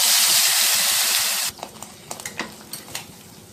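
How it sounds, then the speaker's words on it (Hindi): Cumin and spices hit hot oil with a loud burst of sizzling that drops suddenly to a quieter crackle, followed by several sharp stirring clinks. "अब यही ऑयल में 1 टीस्पून जीरा डालेंगे"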